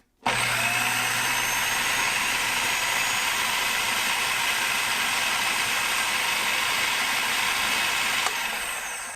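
A Cuisinart 8-cup food processor runs on low, mixing dry ingredients such as salt and sugar for dough: a steady, even motor whir that starts abruptly and holds unchanged throughout.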